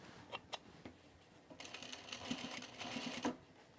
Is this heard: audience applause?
no